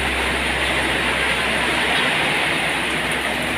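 Heavy rain pours in a dense, loud, continuous hiss, with water from a leak drumming steadily beneath it and no breaks from start to finish.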